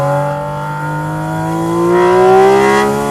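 A GT4 RS naturally aspirated sports car engine revs up close and loud on a winding mountain road, its tone climbing steadily in pitch as the throttle opens, with a brief dip before rising again.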